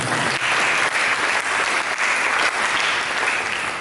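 A church congregation bursts into sustained applause during a sermon. The dense, even clapping fills the hall for nearly four seconds.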